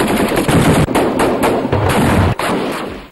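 Militants open fire on an army patrol in the Kahan valley near Panchkur: loud, close bursts of rapid automatic gunfire rattle continuously with a couple of brief breaks, with no talking.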